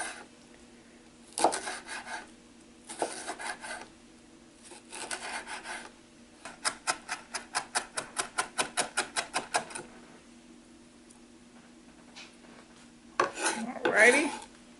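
A knife chops finely on a cutting board through a deseeded pepper for guacamole, first in a few short bursts, then in a rapid, even run of close, crisp taps, ending with a couple of scraping strokes.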